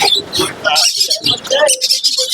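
Small finches such as black java sparrows chirp in quick, bright bursts at a busy pet bird market, with a voice talking over the birdsong throughout.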